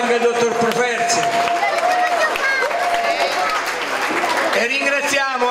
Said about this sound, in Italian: facciamo un applauso anche al dottor Properzi